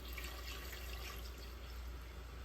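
Water runs into a container at a workbench during Nambu conservation work, a faint, steady trickling hiss that continues throughout with no speech.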